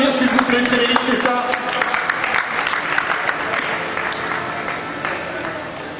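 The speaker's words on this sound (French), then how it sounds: "Vous pouvez applaudir s'il vous plaît, Frédéric Cessa." An audience applauds a European dynamic apnea freediving champion at a 2009 freediving championship, with dense, loud clapping that fades slightly toward the end while a voice speaks over it.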